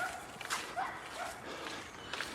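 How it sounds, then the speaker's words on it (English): Dog barking in Backhouse Park, Sunderland, several faint distant yelping barks in a loose rhythm over outdoor background noise. "I think it's a dog rather than a fox."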